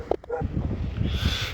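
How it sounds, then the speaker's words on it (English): Pet dogs bark in a few sharp yips at the start, then a low whimpering, growly dog noise carries on close by for the rest of the moment. "I had to tell my dogs to go all the way back because, well, they wouldn't stop barking."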